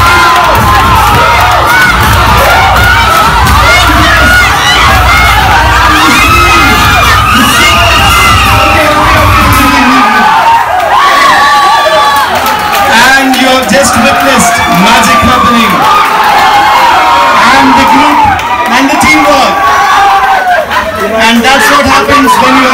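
A large crowd cheers and shouts loudly and continuously at an Onam tug of war, children's voices prominent, with whoops rising over the steady roar throughout.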